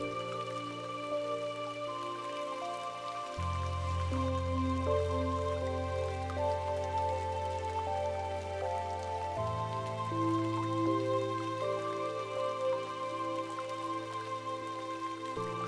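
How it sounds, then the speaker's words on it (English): Soft, steady rain falls under a sustained, low ambient drone, the patter a gentle, even wash that never breaks or swells across the whole stretch. "The rain hushes into a softer cadence"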